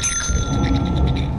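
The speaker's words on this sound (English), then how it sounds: "Stop ringing the fucking bell!" A bell in the video game Lethal Company rings loud and close, its bright tone sustaining briefly over a low rumbling background.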